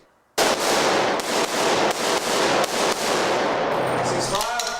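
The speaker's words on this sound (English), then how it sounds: "Load. Make ready. In your own time, commence shooting." Gunfire at a shooting range: a rapid series of loud, close shots fired one after another with short gaps between them, followed by quieter clatter at the end.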